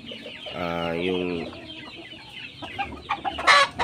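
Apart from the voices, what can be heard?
chickens clucking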